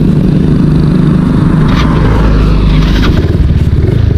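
A Yamaha Mio motor scooter fitted with a 1200 rpm clutch spring runs close and loud, its engine holding a steady, buzzing idle-like drone with a light rattle throughout.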